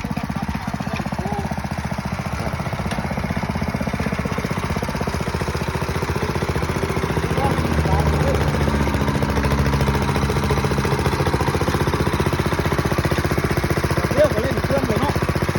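A small two-forward, one-reverse walk-behind tractor engine runs close by while ploughing clay soil in a garden, a steady loud chugging drone that holds throughout with little change.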